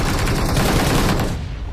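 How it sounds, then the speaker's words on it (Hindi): Gunfire in the battle royale game BGMI, a dense, continuous burst of rapid shots filling the whole clip at close range, loud throughout and easing slightly near the end. "बंदे साइड से बैठ के गोलियां चला रहे हैं।"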